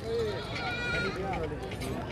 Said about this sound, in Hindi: माशाल्लाह छोटी सी टेढ़ी बकरी है।